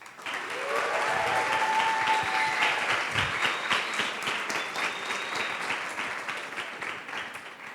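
A round of applause from a seated audience at a panel discussion swells quickly and holds steady, dense clapping that slowly tapers toward the end, with faint voices underneath.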